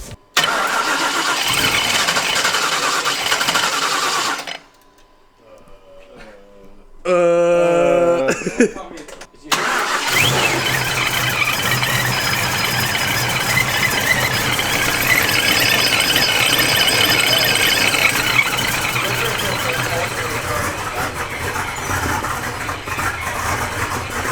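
A 2002 Ford Mustang GT engine cranks and fires up, then settles into a loud, steady running rumble, with a brief quieter gap and faint voices early on.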